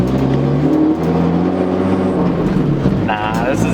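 A straight-piped BMW driving through the suburbs, its exhaust a loud, close, steady droning rumble that holds throughout, with people talking over it.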